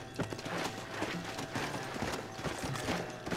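Hooves pound in a quick, continuous gallop as a horse runs in the Red Dead Redemption video game, close and prominent over busy game background noise.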